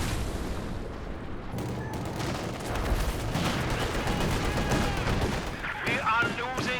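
Game combat from Company of Heroes 2 during a base-exit artillery barrage: a steady run of overlapping booms and gunfire for several seconds, with a voice talking faintly over it.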